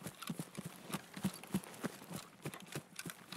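Running footsteps from passing scavs in a first-person shooter game, a rapid, steady patter of steps off to one side, moderately loud and sounding alone.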